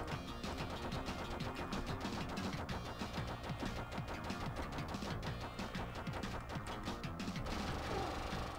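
Rapid gunfire in the T2 Arcade Game on the Sega Mega Drive, a dense and continuous stream of quick shots layered with game music, fairly quiet and unbroken throughout with no talk.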